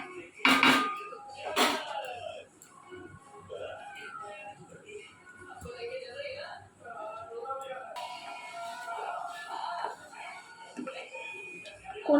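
A heavy biryani cooking pot gives two sharp metallic clanks as it is lifted and handled, followed by softer clatter while someone talks over it.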